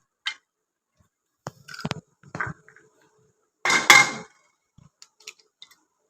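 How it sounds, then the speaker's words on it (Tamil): Two eggs cracked and poured onto a hot dosa pan for a cabbage omelette: a few sharp taps and clicks, then a brief loud hiss and splatter as the egg hits the pan, followed by faint scattered clinks. "2 முட்டை உடைச்சி ஊற்றியாச்சு"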